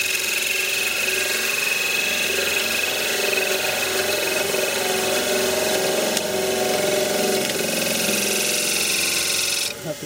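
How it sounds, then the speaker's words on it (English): A wood lathe spins while a skew chisel cuts end grain on a multi-axis candlestick holder, producing a steady, close motor whine with a continuous cutting hiss and no voices. "I'm going to get the skew and start working that in again."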